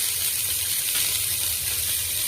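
Tomatoes frying in a pan for tomato rice give off a steady, close, hissing sizzle that holds at an even level without pause.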